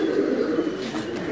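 Pigeons in a rooftop loft give a steady low cooing murmur, a continuous soft purring drone from several birds close by.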